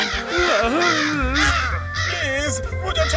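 A crow caws repeatedly at close range, loud and harsh, mixed with voices and dramatic sound effects in a Hindi cartoon scene.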